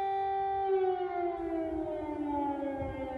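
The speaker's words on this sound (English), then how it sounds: "The sirens sounded to warn of more incoming fire." Air raid siren wailing over Kyiv, a single steady tone slowly falling in pitch, moderately loud and heard from a distance without voices.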